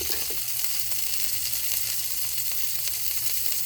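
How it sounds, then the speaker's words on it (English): Sausages frying in a pan, a loud, steady, close sizzle and crackle with no break and no talking. "See, now it's sizzling too hard."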